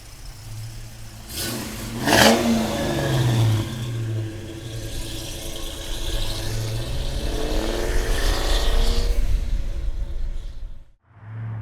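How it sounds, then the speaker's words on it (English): A 1995 Ford Mustang Cobra revs its engine, the exhaust roaring up and falling back in a couple of loud, close surges before cutting off abruptly near the end. "listen to that exhaust, man. She sounds great."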